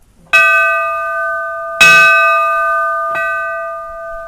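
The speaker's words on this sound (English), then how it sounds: "It's got the fire bell. American LaFrance Fire Bell with the eagle on it." An antique American LaFrance fire engine bell rings three times, loud and close, each strike a bright metal clang whose tone hangs and slowly fades, the last one softer.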